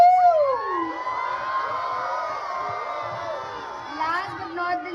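Schoolchildren at a school function hoot and cheer together, a dense wash of high shouted whoops and rising calls layered over one another, fairly close and sustained for the whole stretch.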